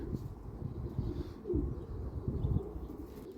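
Racing pigeons coo softly in a loft, low murmuring calls repeating in short phrases, faint and close, with occasional light rustling.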